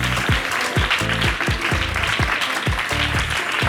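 An audience at a live stand-up comedy contest show applauds loudly and steadily, a dense wash of clapping that holds throughout, with a low, rhythmic, booming musical beat underneath.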